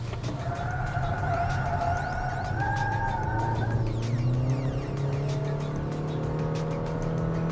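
A Honda WR-V compact SUV with a 1.5-litre, 121-horsepower engine is driven hard through a large S-curve. The engine drones loudly and steadily while its pitch climbs and shifts, heard from inside the car with no talking.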